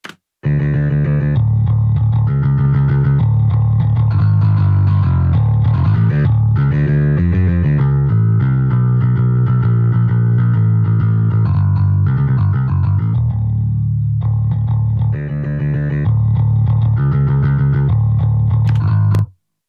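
An electric guitar runs through a Neural DSP Parallax distortion with its input backed off, playing loud sustained distorted chords and riffs for nearly twenty seconds, with a short quieter break partway, no talking.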